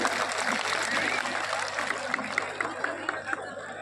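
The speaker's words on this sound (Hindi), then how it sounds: "इसके लिए आप सबके लिए मैं जोरदार तालियों की मैं गुजारिश करती हूँ।" Crowd applause at a political election rally, a dense, steady wash of clapping and chatter from a large outdoor gathering, with scattered louder claps toward the end.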